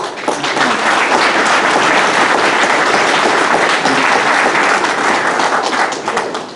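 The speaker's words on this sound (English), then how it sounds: "So I want to give them a round of applause." A gala audience applauds steadily, dense clapping filling the room at full volume for several seconds before tapering slightly at the end.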